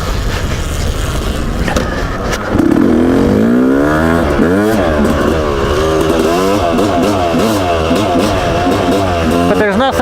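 A 1998 Yamaha YZ250 two-stroke dirt bike engine runs loud and close for the whole stretch, its pitch climbing and falling through repeated revs and gear changes with a raspy, buzzing tone.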